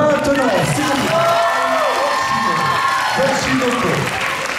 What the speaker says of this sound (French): Et on l'applaudit maintenant, s'il vous plaît.